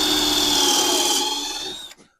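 A power drill whirs steadily and close as it drives a pocket-hole screw into salvaged barnwood, holding one strained pitch and then cutting off abruptly.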